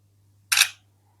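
A single crisp shutter click from the front camera of an Oppo A38 phone, short and close, standing alone against a faint steady hum.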